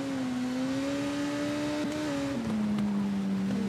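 A superbike engine screams at sustained high revs in a motorcycle road-racing game on the Isle of Man Snaefell Mountain Course, its steady whine dipping briefly as it shifts gears and then pulling on strongly.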